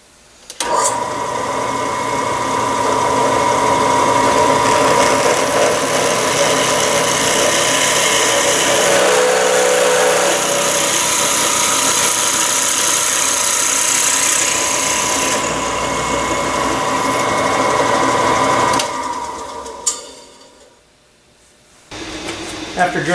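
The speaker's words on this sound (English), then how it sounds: "mark the holes, and then drill them with my drill press" A drill press drills holes in bulkhead plates for a high-power rocket upper section, giving a loud, steady motor whine with cutting noise for about eighteen seconds before spinning down to near silence.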